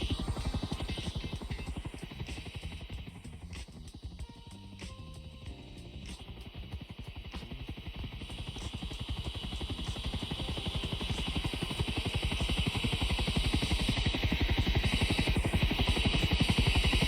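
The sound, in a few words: helicopter outside, from a video game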